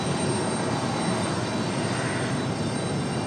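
A Frontier airliner going around at Raleigh-Durham airport produces a broad, steady jet engine roar, loud and continuous with no voices.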